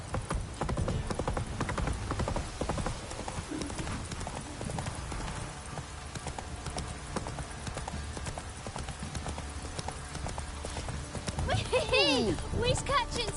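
Roach the horse gallops in Witcher 3, rapid rhythmic hoofbeats pounding on and on close by, with ambient game sound underneath and a whinny near the end.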